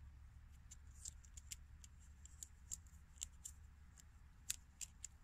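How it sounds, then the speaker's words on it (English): A blade cuts open a small tinder packet from a survival bracelet pouch, making faint, sparse, sharp clicks and snips at an irregular pace in an otherwise quiet space. "we're actually going to cut the Tinder packet open without cutting our fingers"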